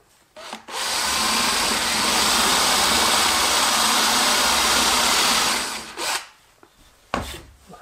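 A drill bores steadily into wood for a concealed screw plug for about five seconds with a loud, gritty whirring grind, then stops, followed by a few short bursts and quiet handling.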